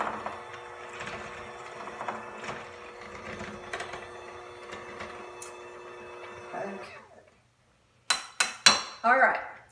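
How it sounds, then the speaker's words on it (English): An electric mixer whirs steadily through banana pudding for about seven seconds, then cuts out. After a short silence come a few sharp clinks of utensils against a bowl. "now you're gonna take your mixer, turn this on. Start to mix for 2 minutes."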